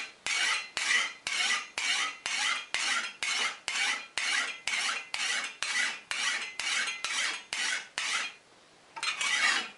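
A metal file rasps along the bevel of a handmade steel card scraper in about seventeen even, rhythmic strokes, close and bright, with one brief pause near the end before strokes resume.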